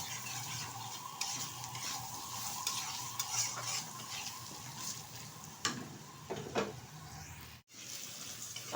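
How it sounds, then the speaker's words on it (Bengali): Diced potatoes fry in oil with turmeric in a pan, a steady close sizzle broken by scraping stirs and a few clinks of the utensil. "একটু ভালোভাবে ভেজে নেব আলুটা।"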